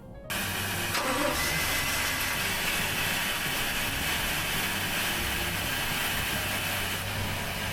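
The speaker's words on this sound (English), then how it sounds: "Notice that vibration on the starboard engine." A boat's starboard engine drones and rumbles at idle after a brief start, its low vibrating hum continuing evenly throughout with no talking.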